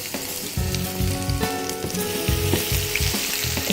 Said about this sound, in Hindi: इसको फ्राई करें।